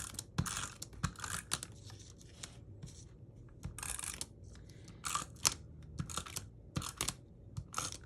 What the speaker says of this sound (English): I'm going to take my little tape gun.